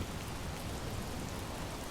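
Steady rain pours down on a city street in a dark drama scene, a dense, even hiss of drops on pavement and an awning, constant and fairly soft with no voices.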